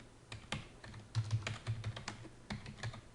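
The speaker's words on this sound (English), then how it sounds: "you can see I can just type whatever I like" Someone types freely on a computer keyboard, giving a steady run of close, crisp key clicks with small irregular clusters and brief pauses, with no voices over it.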